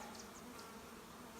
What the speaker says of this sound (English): I shook every bee into this box